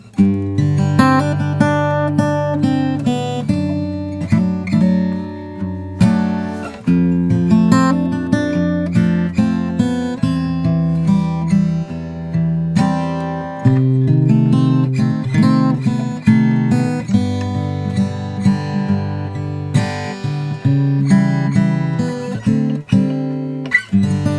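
A guitar plays a flowing melody over ringing chords, notes picked steadily and sustained, close and unaccompanied for about twenty seconds.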